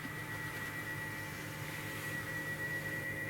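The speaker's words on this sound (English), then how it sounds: "the whining noise you hear is the artificial reverse noise to warn people the car is" A 2025 Toyota Crown Signia emits its artificial reverse warning, a steady, thin electronic whine held at constant pitch over a low, even background hum for the whole stretch, with no talking.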